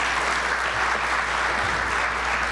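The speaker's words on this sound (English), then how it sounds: "A big round of applause, please." Audience applauding at a conference opening plenary on green business in Asia and the Pacific, a steady dense wash of clapping from a large hall, with a low hum beneath.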